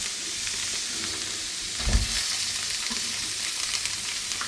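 Mackerel fillet frying skin-side down in a pan over maximum heat, a steady close sizzle with a brief louder burst of spatter midway, no talking.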